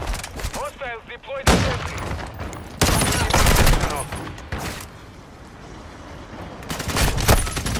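Bursts of rapid gunfire from the video game Call of Duty Modern Warfare II, played in loud clusters separated by quieter stretches, with a player's voice heard at moments.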